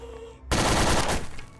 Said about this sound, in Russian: Пригвождатель.